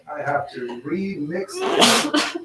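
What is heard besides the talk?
person sneezing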